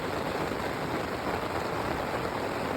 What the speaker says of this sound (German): Es regnet wie die Hölle und hört einfach nicht auf.